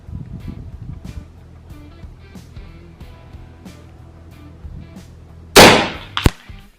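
After a few seconds of low background noise and light clicks, an FX Dreamline Power Pup 5.5mm air rifle fires one loud, close shot, followed by a brief metallic clank.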